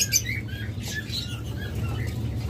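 A pair of adult albino red-eyed cockatiels at a bird seller's, giving scattered high chirps and calls over a steady low background hum, fairly close and moderately loud.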